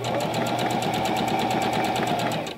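A Singer Classic Heavy Duty sewing machine stitching at a lower stitch-length setting, running as a loud, steady, rapid mechanical whir with evenly pulsing needle strokes throughout, heard close up and without talk.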